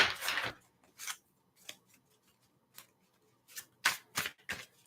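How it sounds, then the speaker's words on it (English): Cards riffle and snap in short bursts, a thick oversized deck of oracle cards shuffled several times with brief pauses in between, close and crisp. "You get a workout when you shuffle this many cards at once"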